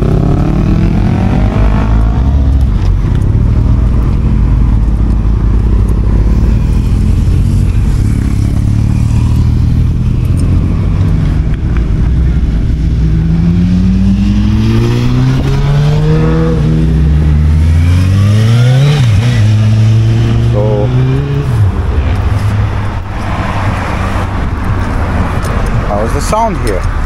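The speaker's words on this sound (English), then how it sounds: "That's my motorbike here." A motorbike engine runs loud and close, idling then revving up and down in several rising and falling sweeps, with someone talking over it.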